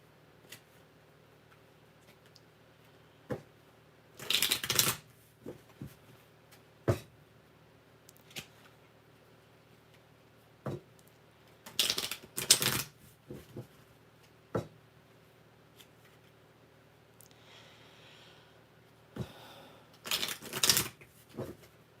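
Tarot cards being shuffled in three short, crisp riffling bursts separated by quiet pauses and a few light taps, close up with no talk.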